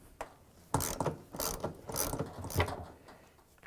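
A ratchet clicking in quick bursts while loosening a 13mm bolt on a Samsung washing machine shock absorber, several close, sharp runs of pawl clicks with short pauses between them.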